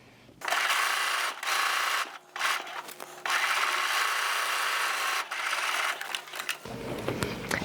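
A sewing machine stitching a fabric bag lining, running in a few long bursts with brief pauses, loud and close, the motor whirring steadily before stopping near the end.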